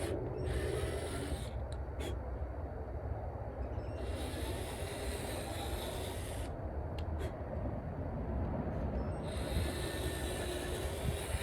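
Sandpaper of 220 grit rubs over the fender wells of a supercharged G35, producing a steady, close, continuous abrasive scratching that runs throughout with brief shifts in brightness.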